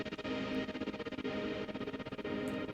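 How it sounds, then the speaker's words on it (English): A dense, shimmering wash of grainy plucked-string texture from a granular-synthesis string library, with a white-noise reverb sweep, swells and smears with heavy reverb, flickering rapidly throughout without any voices. "White noise reverb sweep of granular pizzicato strings."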